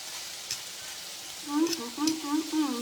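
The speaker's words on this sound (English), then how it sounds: "I just brown it on each side and it is done." Chicken fajita strips with onions and peppers sizzle in a pan, a constant hissing fry that carries on throughout as a voice speaks over it in the second half.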